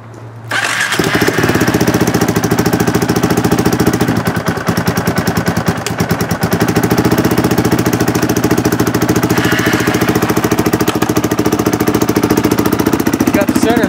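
A KTM 620 RXC motorcycle with its single-cylinder LC4 engine runs loud and close, a rapid steady thumping idle with slight revving swells, continuous for the whole stretch.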